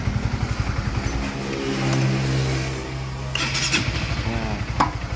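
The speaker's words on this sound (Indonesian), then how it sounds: "lihat starter ini." The electric starter of a Honda CBR 150 motorcycle cranks in rapid, rhythmic pulses up close. A steadier whirring hum takes over in the middle, then the chugging cranking returns.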